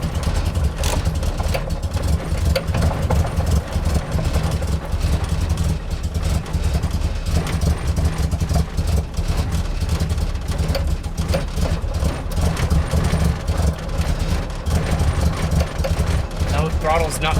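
A car engine, a drift build, idling near its minimum idle right after its first startup, with a loud, close, continuous rumble and clatter throughout.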